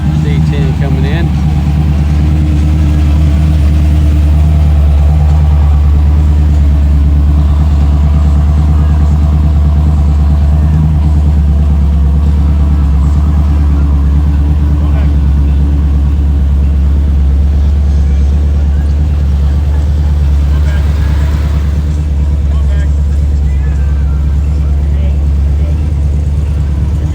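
A Chevrolet C10 pickup truck rolls into an outdoor car show, its engine a loud, steady low rumble that holds without a break throughout, with voices faintly in the background.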